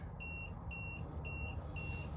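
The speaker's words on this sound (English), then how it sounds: "I don't know why my low water alarm is going off" A fish finder's low water alarm beeps on a fishing boat on Crystal Lake in Burnsville, sounding four evenly spaced high electronic tones over a low engine-like hum.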